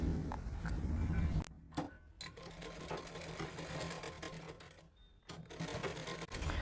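A sewing machine stitches a neck strip onto a plain blouse, a close mechanical whirring hum that pauses briefly twice before running on.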